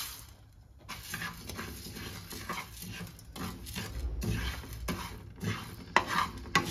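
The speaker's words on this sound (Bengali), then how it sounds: "ড্রাই রোস্ট করব, তারপরে এটাকে ঠান্ডা করে একটা ব্লেন্ড বানিয়ে নেব।" Whole coriander, cumin seeds, dried red chilies and fennel seeds dry roasting in a pan, with a steady soft scraping and stirring rustle and occasional light clinks of utensil on metal, close and moderately quiet.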